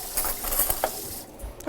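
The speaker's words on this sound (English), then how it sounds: "I am going to now stir up that chocolate." A utensil stirs melted chocolate in a bowl, making a brief, close wet scraping and clicking texture that lasts under two seconds.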